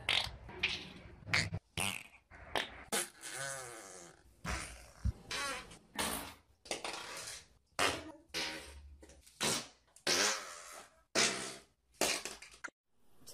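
Loud, close fart sounds from a woman, several sharp bursts and longer rasping blasts in quick irregular succession separated by short pauses.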